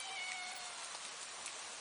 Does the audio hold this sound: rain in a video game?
yes